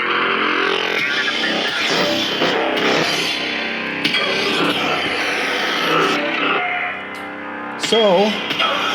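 A speeder-bike-inspired lightsaber sound font plays from a Solos Hold Corran saber with a Proffie board, giving a loud, continuous engine-like roar with pulsing swells and a few sharp whooshing accents.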